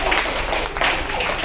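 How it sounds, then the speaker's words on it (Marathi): Children clap their hands loudly together, a dense and continuous burst of applause close by that lasts a moment. "टाळ्या वाजवा जोरात"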